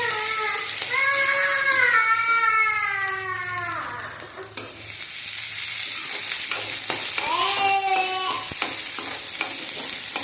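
Sweet corn sizzles as it fries in oil in a pan, a steady close crackle overlaid by two stretches of wavering high-pitched squealing tone and occasional utensil clicks.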